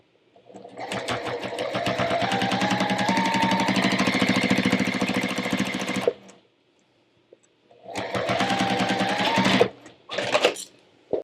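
A sewing machine stitching a fabric seatbelt cover runs in a loud, steady rattling burst of about six seconds, pauses, then runs again in two shorter bursts, close and alone.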